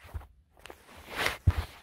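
Stomping footsteps in an ASMR roleplay land as a few heavy, close thuds with a brush of movement between them, separated by near-silent gaps.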